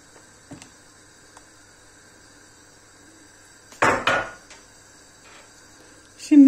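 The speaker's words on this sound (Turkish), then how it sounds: "Şimdi karıştırıyorum." A spoon stirring yogurt into boiled milk in a pot for homemade cheese gives a few sharp scraping clanks against the pot among long quiet stretches, one burst much louder than the rest.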